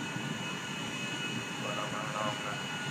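A plane's engine drones steadily in GTA V at an airport, a constant jet-like roar holding for the whole stretch, with a slight rise in the middle.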